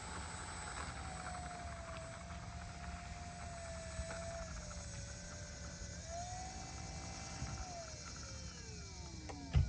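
A small RC model Cessna 182 trainer plane taxis out on the ground, its electric motor giving a steady whining drone that rises and falls slightly in pitch with throttle, heard fairly close with a brief thump near the end.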